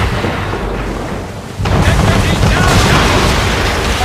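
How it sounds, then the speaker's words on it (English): Warship cannon fire from a man-of-war in a naval battle in Assassin's Creed III, a heavy roaring boom that swells to a sustained loud rumble over the second half. "Man of war's firing!"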